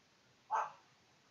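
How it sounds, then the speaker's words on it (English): A single short, faint dog bark sounds once from a distance against a quiet background. "Sorry for the dog."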